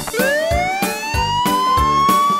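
A police car siren sounds a single long tone that rises steadily in pitch, loud and near, over a steady pulsing music beat.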